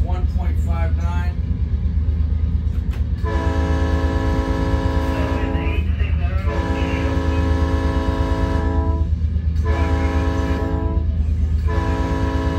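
A fully loaded freight train, 5,541 feet long, labours up a 1.59 mountain grade on the Roseville to Colfax run: a loud, continuous diesel drone with a steady tonal hum that holds throughout, close and unbroken.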